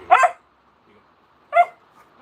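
Two short, sharp barks from a dog indoors, close and loud, spaced about a second and a half apart with quiet between.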